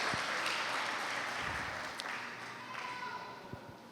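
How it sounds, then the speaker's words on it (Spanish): A church congregation claps for a few seconds after a prayer, the applause fading gradually, with faint voices mixed in. "Ahora sí, vamos a darle un fuerte aplauso"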